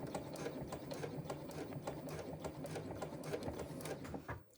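A sewing machine runs a fast, even rattle of stitches while backstitching a pouch seam at a zipper with D-ring connectors, steady and close, then stopping abruptly.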